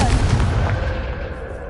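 Confringo blasting spell from a Harry Potter video game: a sharp booming blast at the start that rolls off into a fading rumble, loud and close, with no talk.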